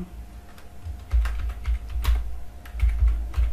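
Steady typing on a computer keyboard, keys clicking close by in quick irregular bursts over a low background hum, with no voices.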